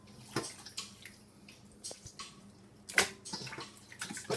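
Water splashing and dripping into a bowl as excess water is squeezed by hand from washed chicken during Caribbean-style seasoning prep, a few short irregular splashes close by.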